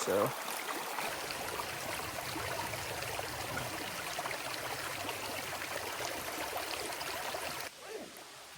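Steady rushing of creek water flowing over rocks, a continuous close babble that drops off abruptly near the end.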